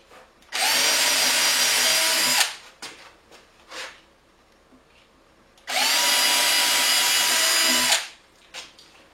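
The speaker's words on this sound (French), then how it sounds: "Je perce mes 2 trous." A power drill bores two holes into a wooden drawer front, two loud steady whirring bursts of about two seconds each, separated by a pause with faint handling noises.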